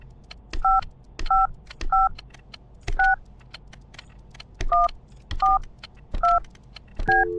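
Telephone keypad dialing tones inside a video game, a series of eight short two-pitch beeps spaced in an even rhythm over a low background rumble, with no one talking.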